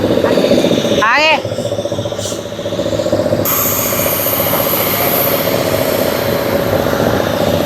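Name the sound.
airplane engine noise on international flight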